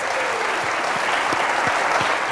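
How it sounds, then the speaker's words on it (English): An audience at a university talk applauds in a steady, dense wash of clapping that holds throughout, fairly loud and close. "you don't have to applause for me because we do it for fun"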